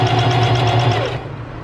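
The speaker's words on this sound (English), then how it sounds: "again I'm going to stop sewing right there at this point" A sewing machine stitching a zippered scrunchie, running at a steady fast whirring buzz with a rapid rhythmic needle patter, close and loud, then slowing and stopping near the end.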